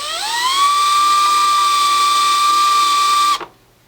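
Power drill countersinking screw holes for a printing press motor part, a high whine that rises quickly and holds steady for about three seconds before cutting off abruptly.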